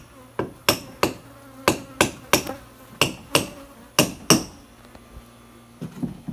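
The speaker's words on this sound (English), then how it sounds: "he's not hammering much, just pulling the nails out for that roofing material" Sharp hammer blows ring out one after another at an irregular pace while nails are pulled from roofing material on a mezzanine platform at a fishing camp, with a faint insect buzz from bees in the background.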